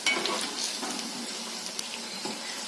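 Sago (javvarisi) bonda frying in hot oil gives a steady, close crackling sizzle with small pops throughout, and no voices.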